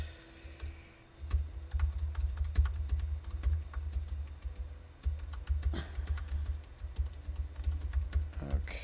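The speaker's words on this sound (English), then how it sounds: "you're just going to hear me furiously typing on the other end after something" Rapid, furious typing on a computer keyboard, a dense run of clicking keystrokes that pauses briefly around the first second and again near five seconds before resuming, close and steady with no talking.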